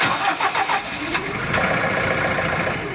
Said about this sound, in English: now let's try to crank it